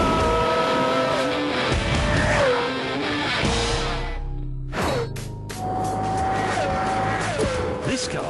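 Pagani Zonda F Roadster accelerating hard, a loud howling engine climbing through revs with rising pitch sweeps, a brief gap at a gear change, then another surge, close and powerful.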